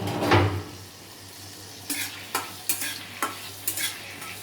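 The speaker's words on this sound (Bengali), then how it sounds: "তেল গরম হয়ে গেলে একটু পাঁচফোড়নের ছোঁক দিয়ে ফোড়ন দিয়ে" Panch phoron spices tempering in hot oil, a faint steady sizzle with a few sharp crackles and pops near the start and a run of soft stirring clinks later, no talk.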